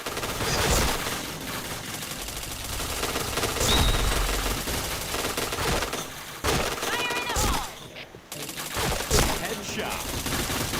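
Gunfire in a shooter video game, dense bursts of automatic fire and rapid shots layered over game sounds, loud and continuous, with a player talking now and then.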